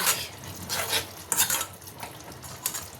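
A spatula scrapes and stirs green chillies through a prawn bati chorchori in a pan, with several short scraping strokes over a soft sizzle and no talking.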